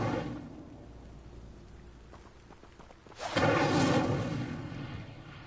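In the Hogwarts Legacy video game, an Incendio fire spell sets dry vines alight with a sudden roaring burst of flame that swells and holds for about a second before fading over a low ambient rumble.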